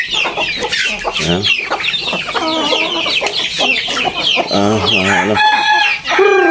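Backyard native chickens cluck and squawk busily at feeding time, with close, overlapping calls throughout and a rooster-like crow, while a person speaks briefly.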